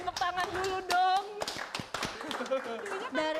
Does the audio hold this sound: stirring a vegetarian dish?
no